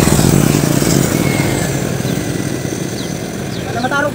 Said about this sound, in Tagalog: magpa-sinsuel muna tayo sa ating tricycle motor.